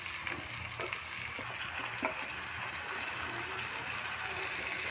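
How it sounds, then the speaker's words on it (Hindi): Ground tomato and green chili paste hitting a pan of fried chicken, a steady broad sizzle and frying hiss with a few small pops and stirring scrapes throughout. "चिकन हमारा फ्राई हो चुका है, अब इसके अंदर हम डालेंगे टमाटर जो कि हमने पीस लिए है"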